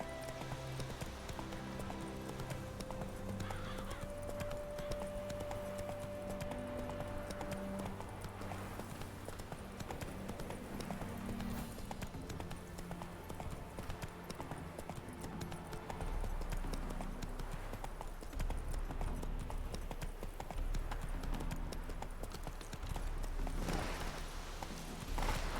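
Hooves of Roach, a horse in The Witcher 3, clip-clopping steadily over ground amid game music, moderately loud and continuous, without speech.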